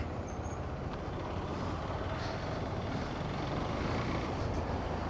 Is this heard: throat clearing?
no